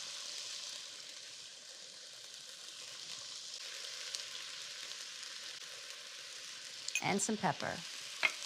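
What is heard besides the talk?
sautéing in a pan for mashed potato soup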